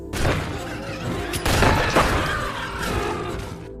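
Gunfire in a film scene, a dense burst of loud, close shots and impacts running almost without a break, with a sharp crack near the middle.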